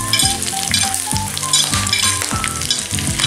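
Garlic for pork sisig hisses loudly in a hot pan, and repeated clattering strokes of stirring cut through the close, constant sizzle.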